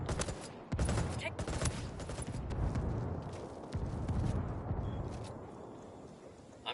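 Sustained gunfire in the video game Ghost Recon Wildlands, a dense, loud barrage of shots and bursts running throughout with no pauses, heard in an online multiplayer match.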